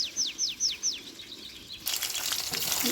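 Potatoes frying crisp in a pan of oil: a few clear bird chirps at first, then a sudden loud, dense hiss of frying that carries on to the end, with no talking.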